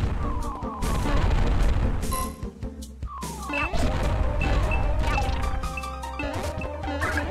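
Loud crashing explosions and impacts in the video game Psycho Waluigi, layered over busy game music and effects, with a heavy burst near the start and more blasts after a brief dip.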